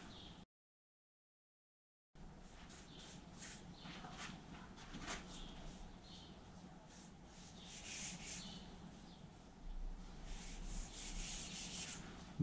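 A big brush spreads rust converter inside the bare shell of a classic Mini, making soft, faint swishing strokes in a quiet interior after a brief silence.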